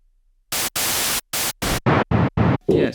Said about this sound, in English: Let's hear the different noises.